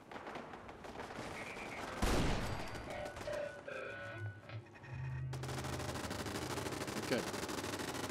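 Turret gunfire in the Fallout 4 video game rattles in rapid bursts mixed with a sharp blast and continuous mechanical noise, with a voice talking over part of it.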